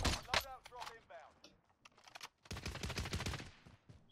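Bursts of gunfire from the Call of Duty Warzone video game, fairly quiet, scattered early shots then a steady volley in the second half, with voices talking over parts of it.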